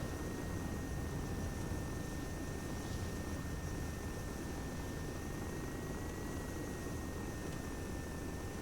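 Steady, loud rotor and engine drone of an aircraft passing on a flyby, a continuous broadband roar with a faint high whine that holds without pause.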